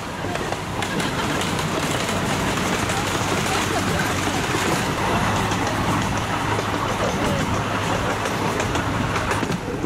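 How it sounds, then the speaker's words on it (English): Amusement park train ride rolling steadily past another train, a loud continuous rumble with rhythmic clickety-clack of wheels on rails close by. "Oh, passing another train."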